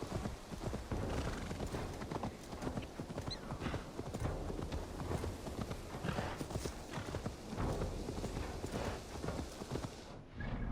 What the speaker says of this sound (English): my horse does not apparently know how to walk there